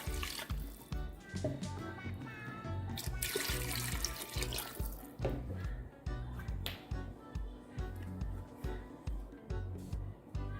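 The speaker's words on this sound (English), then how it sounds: "So to my pressure cooker, I'm gonna be adding some water." Water splashes and pours into a metal pressure cooker in uneven bursts, with clinks and taps of handling between pours, close up.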